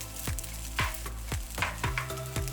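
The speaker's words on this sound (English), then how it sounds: "shake the frying pan about 3 to 4 times to mix everything together" Japanese-style fried rice sizzles in a frying pan while a spatula scrapes and knocks against it in a regular rhythm, about five strokes, close up.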